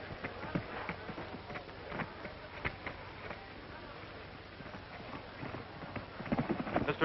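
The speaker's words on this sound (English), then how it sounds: "a specialty number by Mr. Tom Ford and his famous horse Champion, one of the world's finest trained animals" A trained performing horse's hooves clip-clop in a steady, fairly quick rhythm during a stage show. The hoofbeats are faint and distant over a hissy background.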